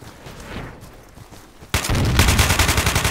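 AK-74 rifle fired in Battlefield 2 with the Nightfall 2048 mod, a loud sustained burst of rapid automatic shots starting abruptly after a quieter stretch of game ambience.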